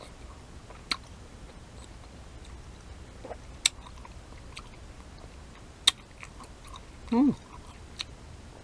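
A tangelo is bitten and chewed quietly up close, with a few sharp wet bites and crunches scattered over soft chewing and a brief murmured voice.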